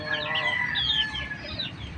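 Chickens cluck and murmur close by, with a busy overlapping chorus of fowl calls and no talking.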